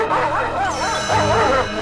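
A hunting dog in a storybook reading barks and yips excitedly in continuous, loud, wavering calls, close up, with no clear talk over it.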